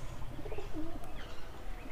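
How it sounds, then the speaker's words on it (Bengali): A pure white pigeon with white eyes cooing softly up close, a few low murmuring coos over a steady background hum with faint chirps. "এটা হচ্ছে সাদা চোখের কবুতর।"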